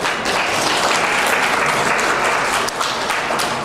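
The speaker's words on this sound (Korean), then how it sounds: "여러분들의 큰 박수로 시작하겠습니다" Audience applause opens a 2026 high school admission briefing in an indoor hall, a dense, steady burst of many hands clapping close and loud for nearly four seconds, with no talking over it.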